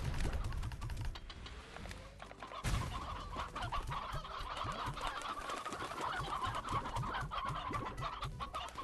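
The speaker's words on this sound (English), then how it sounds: "Guess I'll put up these chickens." Chickens in the video game Slime Rancher cluck with soft, busy chatter. The sound is quiet and sits under a dense layer of clicking and tapping noises throughout.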